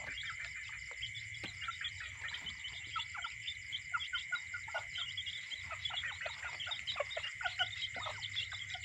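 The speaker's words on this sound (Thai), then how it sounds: "อันนี้ก็จะเป็นรุ่นไก่ประมาณสี่เดือนครับ เป็นไก่ขาว" Four-month-old white bantam chickens cluck softly in a steady scatter of short calls over a high, constant insect-like drone; faint and somewhat distant.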